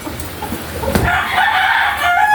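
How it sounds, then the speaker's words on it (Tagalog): A rooster crows loudly nearby in a long, strained call, following a few soft clucks and rustling. "Andi dito na aming mga manok."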